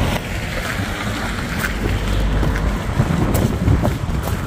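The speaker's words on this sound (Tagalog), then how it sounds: "Malakas ang hangin." Strong, gusty wind in a snowy winter setting, a loud continuous roar buffeting the microphone with no voices.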